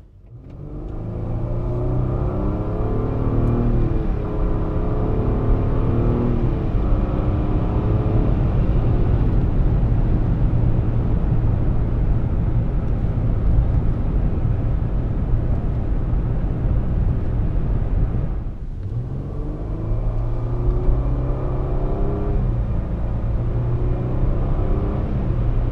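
A 2015 Nissan Murano SL with a CVT accelerates hard in automatic mode, engine droning loudly and steadily rising in pitch, with a brief dip near the end as it mimics a gear shift before climbing again.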